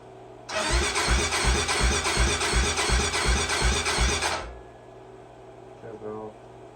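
A 2008 Honda 400EX ATV engine is cranked with the choke on. It catches and runs in a loud, rapid, pulsing clatter for about four seconds, then cuts out sharply, and a brief faint knock follows.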